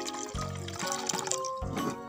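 Coloured liquid poured into a container during a children's baking soda and vinegar experiment, a short splashing trickle with bubbly, wet gurgles that starts and stops over about two seconds, close by.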